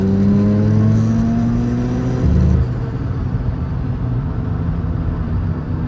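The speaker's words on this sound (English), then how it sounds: "Hit rev limiter." A Mazda FC RX-7 rotary engine revs hard and holds high at the rev limiter, then drops back to a steady loud rumble; no voices.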